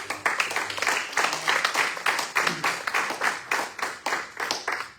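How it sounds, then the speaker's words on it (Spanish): A church congregation applauding during a sermon, many hands clapping in quick uneven bursts that fill the room, with a few voices mixed in. "Dale un aplauso"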